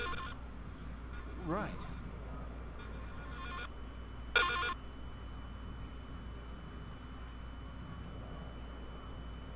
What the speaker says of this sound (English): My phone on my remote's ringing.